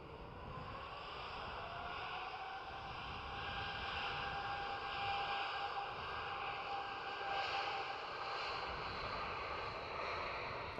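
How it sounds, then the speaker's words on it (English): A Boeing 777-200ER airliner departing at night at Amsterdam Schiphol, its jet engines a steady, fairly distant roar with a thin whine, swelling slightly midway and alone without talk. "There she goes. 777-200 ER going to Beijing."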